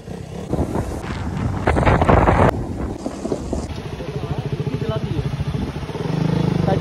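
A motorcycle is ridden along the road to Katika waterfalls near Araku, its engine revving and then settling into a loud, steady pulsing close by, with wind buffeting the microphone and voices talking over it at the start.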